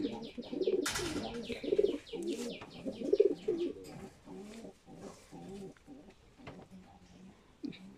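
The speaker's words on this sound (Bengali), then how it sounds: "আগে নর কবুতারটি দেখিয়েছিলেন এবার ইয়াসিন ভাই মাদি কবুতারটি দেখাবেন" Rampuri cross high flyer pigeons coo repeatedly in a close, busy chorus of low throaty calls, with chirps, a brief burst of wing flapping and someone talking over them.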